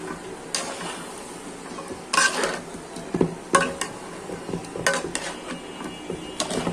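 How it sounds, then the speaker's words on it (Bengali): Meat being sautéed with ginger garlic paste in a pan, with steady low frying under a run of scraping stirs and spoon clinks against the pot, close and moderately loud, with no talk. "সব কিছু দিয়েছি, এখন কষাচ্ছি মাংস"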